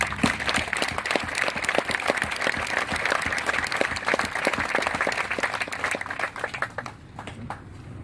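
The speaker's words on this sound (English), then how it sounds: "So, a round of applause for them." A crowd claps steadily in sustained applause for veterans for several seconds before it starts to thin out and fade.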